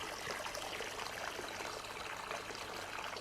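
Water pours steadily into a pot, filling it with a continuous splashing rush that stays even and close for a few seconds, with no voices.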